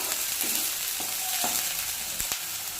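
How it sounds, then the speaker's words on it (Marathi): Curry leaves and spices sautéing on low gas for a Marathi katachi amti, a steady close hiss of frying with a few soft stirring scrapes and no talk. "आणि लो गॅसवर छान परतून द्यायचं।"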